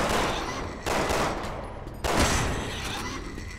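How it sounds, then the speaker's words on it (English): Dense crackling bursts of fireworks going off nearby in the video game Resident Evil 6, loud rapid popping volleys that restart after short gaps, with no talk. "Fireworks are going off near us."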